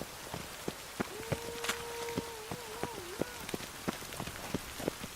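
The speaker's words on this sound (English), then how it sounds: "Rain again." Rain falls in The Witcher 3 video game, steady patter with sharp individual drops hitting a surface, faint and close, with a brief tonal hum drifting through the middle.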